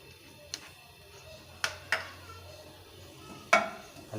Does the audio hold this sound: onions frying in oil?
yes